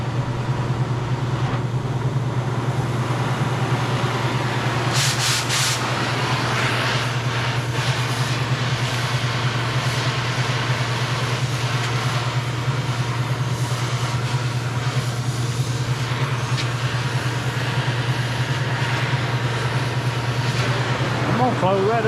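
A cutting torch with a circle-burner attachment burns a hole in 2 3/8 inch diameter steel pipe, giving a loud, continuous roar with a low hum that stays steady throughout.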